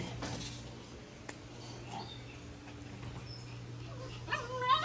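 Several dogs whimper and whine faintly in a kennel area where they are kept, with a few soft yelps rising near the end over a steady low electrical hum.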